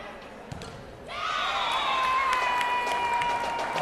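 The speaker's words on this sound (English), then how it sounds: "Probably excessive cheering here from the Grosse Ile fans." Grosse Ile fans in a school gym crowd at a volleyball game break into loud, sustained cheering, with whistle-like tones ringing over the noise.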